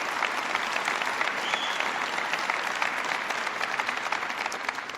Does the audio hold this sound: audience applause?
yes